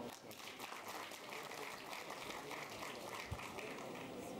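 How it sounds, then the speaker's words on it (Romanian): Audience applause at a school freshmen's ball at a national college, a steady, moderately distant wash of clapping filling the hall without pause. "Să-l aplaudăm!"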